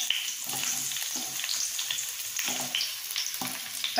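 Onions fry in oil in a pan for a ridge gourd and prawn dish, a close crackling sizzle broken by repeated scraping strokes of a spoon stirring, moderately loud with no talk.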